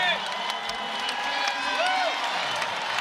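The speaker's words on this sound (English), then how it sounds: "Crowd appreciating the effort" A women's college basketball crowd at the KFC Yum Center, during Cincinnati vs. Louisville, cheers and applauds in a sustained roar, with sharp shoe squeaks rising above it from the court.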